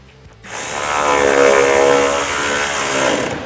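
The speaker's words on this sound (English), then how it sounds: "Now we can install the 3 bolts on the bottom." A power tool whirs steadily for about three seconds, driving the bottom bolts while installing Morimoto XB LED headlights with amber DRL and black housings on a 2018-2020 Ford F-150, close and fairly loud after a brief quiet start.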